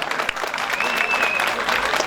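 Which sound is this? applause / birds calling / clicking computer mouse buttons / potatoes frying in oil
applause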